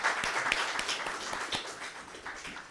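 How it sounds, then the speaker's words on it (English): Audience applause after a memorial lecture, a steady round of clapping from a seated crowd at even loudness through the whole stretch. "So let us all give a big round of applause to him."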